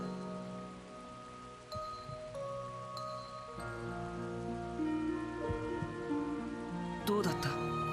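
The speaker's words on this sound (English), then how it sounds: "During a rainy day in Crossbell." Steady rain patters across a wet town street in the video game Trails to Azure, set in Crossbell, a soft continuous wash beneath layered music and sustained tones, with brief mechanical clanks and a chime near the end.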